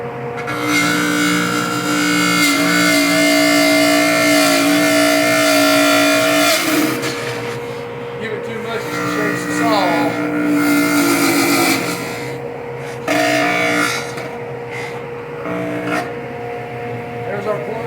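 A woodworking router plunging into the wooden body of a beehive, guided by a handle jig, whines loud and steady, its pitch dipping as the bit bites into the wood, with a person talking over it.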